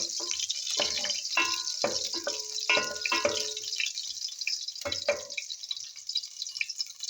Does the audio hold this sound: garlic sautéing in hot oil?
yes